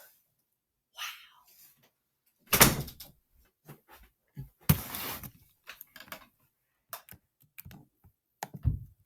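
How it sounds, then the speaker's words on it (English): A door opened indoors, heard as a few sharp knocks and clacks among scattered clicks and handling noises. "Look, I opened the door."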